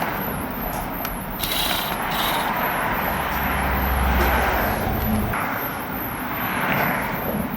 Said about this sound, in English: We're just removing all the screws that's holding onto the panels inside.